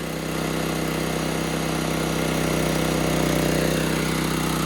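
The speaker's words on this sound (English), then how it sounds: "Let it warm up for a second. Let it smooth out at half choke." A small engine running steadily at half choke while it warms up, a continuous mid-pitched drone that holds even and close throughout with no talk over it.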